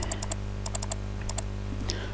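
Keys clacking on a computer keyboard during French-language office software work, short bursts of several crisp taps separated by pauses, close and clear over a steady low hum.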